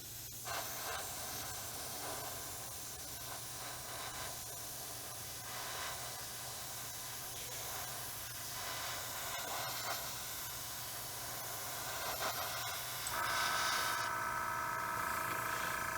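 Spray paint or airbrush applying a second coat to a model, a steady soft hiss running continuously through the whole stretch with brief pauses and a brighter, louder burst near the end.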